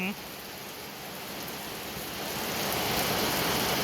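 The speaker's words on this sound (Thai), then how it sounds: "ฝนก็ตกตลอดเลยบ้านนี้" Heavy rain pours steadily during a storm at a house, a dense, loud hiss that swells slightly louder toward the end, with no other sounds standing out.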